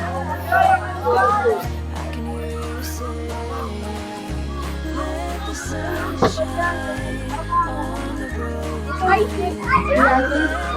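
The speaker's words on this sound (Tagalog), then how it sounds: "Maraming naglalaro mga bata doon, mga estudyante" Children and students playing around a maze at Naga City Ecology Park, their shouts and chatter coming from a distance, while a nearby adult talks over them and low music runs underneath.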